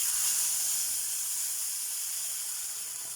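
Hot water hits roasted vermicelli in a hot pan for semiya payasam, producing a loud, steady steam hiss close up that eases off slightly toward the end.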